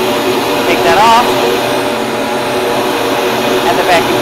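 Flow bench drawing air through an engine intake with the air filter removed and a bell mouth fitted, a steady loud broadband rush of air throughout, with faint voice-like tones over it.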